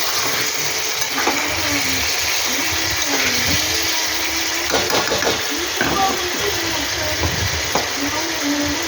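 Katla fish curry simmers and bubbles in a pan after water and green chillies go in. A steady close sizzle and bubbling carries on throughout, with occasional clinks and stirring knocks.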